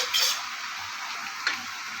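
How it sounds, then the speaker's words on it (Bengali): Shredded cabbage with a little turmeric is stirred in a pan, giving a soft sizzle broken by a couple of light scraping clicks of the spoon, with no talk. "বেশ নাড়াচাড়া করবো"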